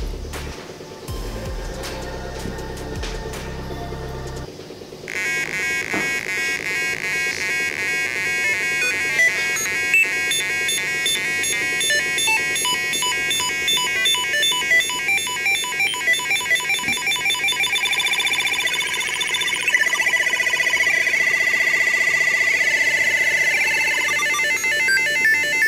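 A homemade Arduino Nano 4-step sequencer on a breadboard plays through a small speaker wired straight to a pin with no amplifier, giving repeating buzzy electronic beeps and tones in a looping pattern.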